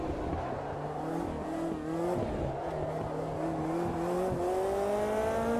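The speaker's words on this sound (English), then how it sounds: "just blipping the throttle on the way out, it just sounds perfect" Race car in the sim game Automobilista 2 braking into a corner, the engine dropping through downshifts with sharp throttle blips, then revving back up as it accelerates out, heard from the cockpit at moderate volume with no talk.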